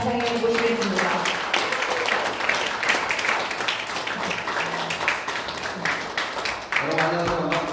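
Warm applause welcoming a chairman to the stage at a Korean reunification gathering, a crowd clapping steadily for several seconds, with voices audible faintly at the start and end.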